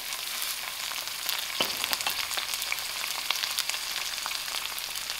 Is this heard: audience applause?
no